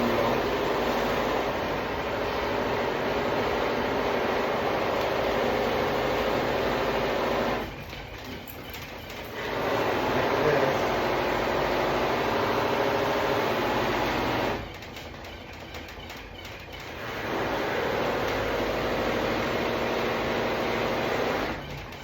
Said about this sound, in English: I bear down on the buffing wheel.